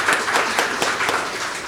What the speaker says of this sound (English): We have, let us clap.